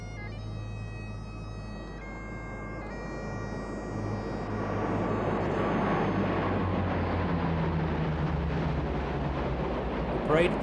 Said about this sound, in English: the final flypast of C-130 Hercules from RAF Lynham pass overhead in tight formation